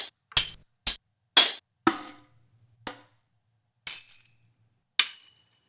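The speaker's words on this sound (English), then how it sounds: "Bunch of tambourines." Seven separate tambourine hits, a mix of sampled and recorded tambourines, each a bright jingling shake that rings out and fades before a short silence, spaced unevenly and heard alone with no talking.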